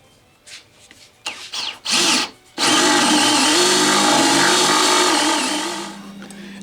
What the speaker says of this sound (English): So I'm going to drill a hole from side to side in the center and 6 1/4 inches in from the end with a 7/8 Forstner bit.